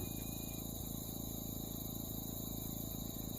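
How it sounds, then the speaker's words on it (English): Dense, continuous insect buzzing fills the air, a steady shrill drone of cicadas with a rhythmic pulsing underneath, no voices. "Yeah, it's cicadas."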